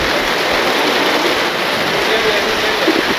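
Steady rain falls outdoors as a dense, continuous hiss with no pauses, loud and even from start to finish.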